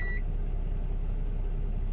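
Cuisinart 3-in-1 microwave, air fryer and oven gives a single short electronic beep while its time is being set, followed by quiet room hum.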